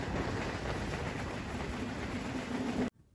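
The Dhumketu Express rumbles into a railway station with a steady rolling roar of wheels and carriages, loud and continuous, cutting off abruptly near the end.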